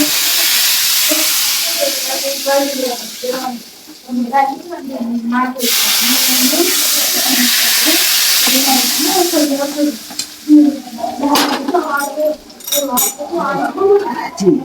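Steady frying sizzle of pav bhaji tempering runs throughout while a spoon stirs and scrapes the pan, with a person talking over the cooking noise.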